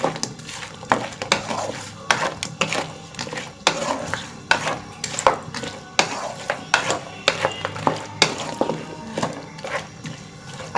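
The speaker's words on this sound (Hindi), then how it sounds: "अच्छी तरह इसको मिक्स करें" Chicken and vegetables are stirred into a thickening sweet and sour sauce in a pan, with repeated scraping and clinking of a spoon against metal and a soft sizzle underneath.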